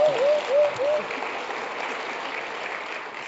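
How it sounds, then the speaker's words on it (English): An audience claps in a steady round of applause, with a voice speaking briefly over the opening second before the clapping continues alone. "All right, another round of applause for the Lewises."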